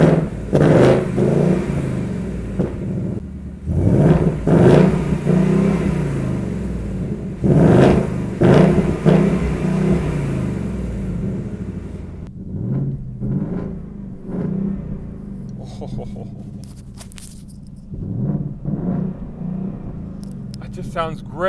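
A 2018 Ford Mustang GT's engine cranks to life and revs repeatedly in loud bursts, deep rumbling between, then settles toward a lower idle with lighter blips.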